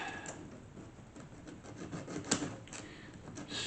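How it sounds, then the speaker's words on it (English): Sanding a small plastic cam cover for an AMT Corvette ZR-1 scale model engine kit, heard as a close, steady scratchy rubbing that keeps going in short strokes with no talk. "we're going to sand this down to where we can put the cam cover on there"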